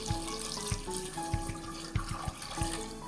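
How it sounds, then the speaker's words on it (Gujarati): Water poured into a pressure cooker holding soaked dried green peas and two potatoes gives a steady, fairly quiet splashing broken by regular soft thuds. "હવે આપણે પાણી એડ કરી દઈએ."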